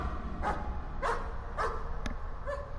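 A dog barking in the horror video game Layers of Fear, four or five separate barks at a steady pace over a low droning game ambience.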